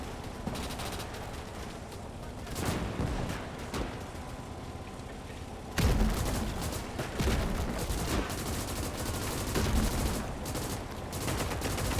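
Machine gun fire in the World War II video game Gates of Hell: Ostfront, dense continuous battle noise with overlapping bursts and a sharp louder volley midway, sustained throughout.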